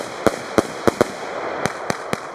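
Consumer fireworks from a discount supermarket, shooting high into the sky: a series of seven distant, sharp pops at irregular intervals over a steady outdoor background, with no voices.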